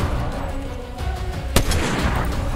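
A single sharp sniper rifle shot in Fortnite cracks out loud and close midway through, standing out against a steady bed of game noise and distant rumble.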